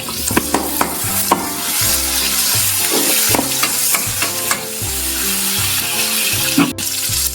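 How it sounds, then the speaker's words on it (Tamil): Tomatoes sauté in a hot pan for a fish curry: a constant sizzle under repeated scraping strokes and clunks of a spoon against the pan, close and fairly loud. "இப்போ தக்காளி சேர்த்துக்கலாம் நல்லா வதக்கி விடுவோம்"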